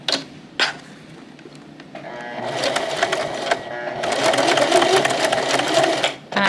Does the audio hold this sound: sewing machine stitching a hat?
yes